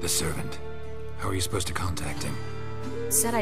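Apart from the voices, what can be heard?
No everyday noise stands out behind the speech.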